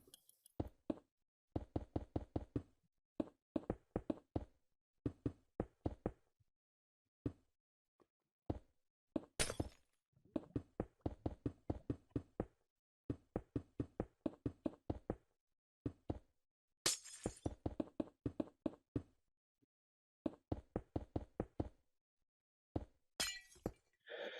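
Glass blocks being placed in the Minecraft video game while building a renewable lava farm: a long run of short, crisp clicking taps, singly and in quick bursts of several, separated by brief pauses, with no talking.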